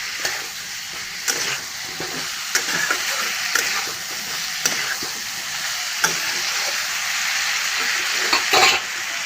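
Potatoes and soybean chunks fry in spiced oil while being stirred, giving a steady close sizzle broken by frequent scraping and knocking strokes of the spoon against the pan.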